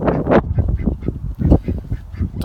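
Backyard ducks quacking loudly and close, a dense run of harsh overlapping quacks with no talk, recorded among a flock of chickens and ducks.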